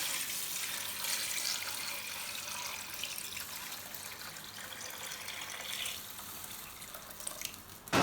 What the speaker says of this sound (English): It is time to add the extracted palm nut, the liquid extracted from your palm nut, inside the pot.